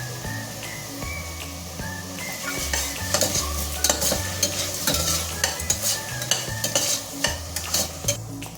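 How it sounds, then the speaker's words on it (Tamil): Onions with rock salt sauté in a pan, a continuous close sizzle with rhythmic stirring scrapes and clinks that grow busier toward the end, all under background music. "இது நல்லா வதங்கணும்."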